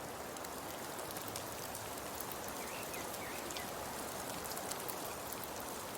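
Steady rain falling in Germany, a dense, even hiss of drops striking surfaces throughout, with no voices or other sounds.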